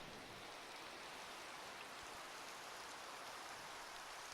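Steady, even hiss of rain falling in Minecraft, a soft continuous wash of drops at low level with no voices or other sounds.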